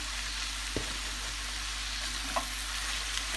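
Spinach sautés in a pan for a spinach börek filling, a steady soft sizzle with a couple of brief stirring clicks, fairly quiet and close, no talking.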